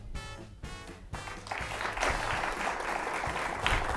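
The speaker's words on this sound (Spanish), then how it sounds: "Tienen que ayudar al profesor, ¿eh? Tienen que aplaudirlo y tienen que entusiasmarlo." Audience applause swells from a brief vocal opening into sustained, loud clapping from a live crowd that carries on steadily to the end.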